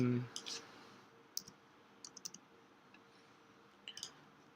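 A few sharp computer mouse clicks sound in trading software, coming singly and in quick pairs over a faint quiet background.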